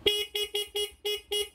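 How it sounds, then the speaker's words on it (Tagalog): Horn of a Raider J 110 motorcycle with carburetor and fullwave wiring, sounding in six short, evenly spaced beeps, fairly close and clear with nothing else audible. "Ayan, busina."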